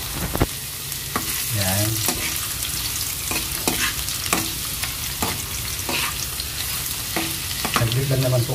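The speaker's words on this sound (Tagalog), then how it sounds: "para maigisa na po natin yung ating mga sangkap. Ilagay na po natin yung ating luya." Ginger sautés in a pan for chicken sinigang, crackling and sizzling steadily while a utensil clacks and scrapes against the pan in repeated strokes. A voice briefly speaks.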